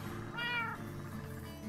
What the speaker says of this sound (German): das ist meine Katze.